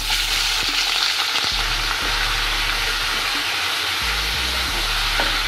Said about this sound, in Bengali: এখানে তেল, মাংস, হাড্ডি সবগুলোই নিয়েছি, এখন ভেজে নেব।